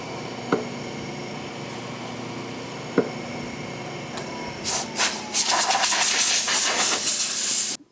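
Gas torch hissing while silver soldering the rear hub of an 1894 Giraffe bike, broad steady roar building in the last few seconds after quiet shop tones and a couple of faint clicks.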